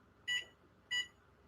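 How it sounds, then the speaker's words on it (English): A kitchen timer sounds two short electronic beeps about half a second apart, clear and close in a quiet kitchen while a mole sauce is being cooked. "I'm going to set a timer."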